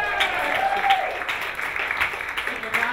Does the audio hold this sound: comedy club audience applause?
yes